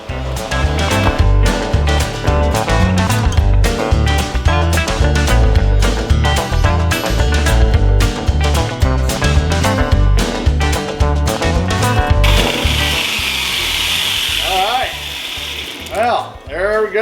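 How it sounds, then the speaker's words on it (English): Angle grinder grinding down and smoothing rough welds on a metal oil can holder in a home garage, a loud steady whine for about twelve seconds, then lighter polishing passes with a brighter hiss before winding down. "I'm going to go ahead and grind this thing down and make it nice and smooth"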